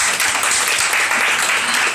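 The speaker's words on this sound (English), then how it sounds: "give yourselves all a round of applause" An audience claps for the bartenders at a gin cocktail competition in an Edinburgh bar, a dense burst of applause filling the room, loud and sustained for a couple of seconds.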